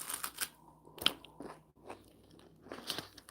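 Crunching bites into a vanilla-flavored, no-sugar wafer cookie snack, several sharp crisp crunches close to the mic in irregular bursts, with chewing between them and no talking.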